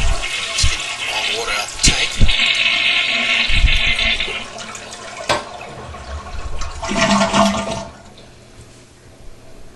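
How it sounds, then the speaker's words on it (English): Toilet flushed to empty its tank during a bathroom floor repair, a loud gurgling rush of draining water that fades into quieter trickling, with some faint background noise. "now let's flush the remaining water out of the tank"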